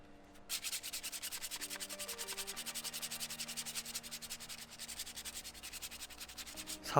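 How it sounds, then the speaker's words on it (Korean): Sandpaper rubs back and forth over a handmade model for a 4-inch Bluetooth speaker, steady rhythmic scratchy strokes, close and fairly quiet, with a low hum underneath. "사포로 한번 갈아내고"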